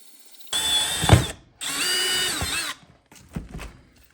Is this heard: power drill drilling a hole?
yes